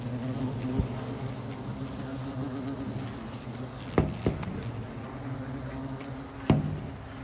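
An Asian hornet buzzes as a steady low hum throughout, with a few sharp taps and knocks breaking through at moments.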